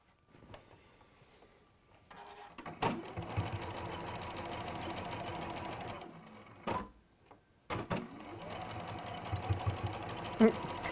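A domestic sewing machine stitches fabric pieces together in a home workshop, running in steady whirring bursts with short pauses between runs, close and fairly loud, with a voice talking quietly over parts of it.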